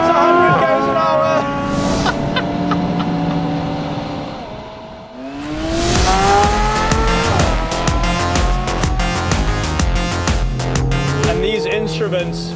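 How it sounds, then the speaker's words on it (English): A McLaren 720S launches hard from a standstill, its twin-turbo engine roaring loud and near, rising through the revs, dipping at a gearshift and then surging again with tyre noise as it accelerates. "It says launch mode active, left foot on the brake, boost building, boost ready, here we go"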